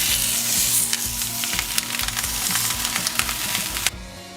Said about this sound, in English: Saute the skin until crispy and golden brown, then turn and do the same to the second side.